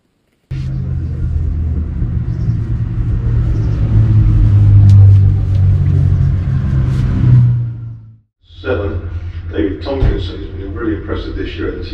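A TVR Vixen classic race car from the 1970s Roadsports series at Silverstone gives off a deep, loud engine rumble that swells and then briefly drops away, with voices nearby.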